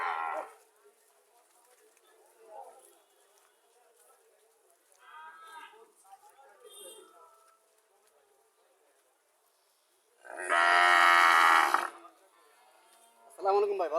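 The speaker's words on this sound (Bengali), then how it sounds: "শাহিওয়াল জাতের সার বাছুর।" Sahiwal breed bull calves at a cattle market in Chauara Bazar, Comilla, with a loud, drawn-out moo rising near the end and another starting just after, following quieter stretches of distant voices and buzzing insects.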